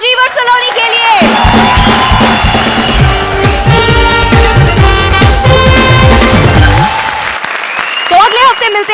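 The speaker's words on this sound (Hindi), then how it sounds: "तो एक आखिरी बार जोरदार तालियां" Applause and cheering from a comedy television show's studio audience, mixed in under loud, busy music with shouts and whoops, running continuously and close throughout.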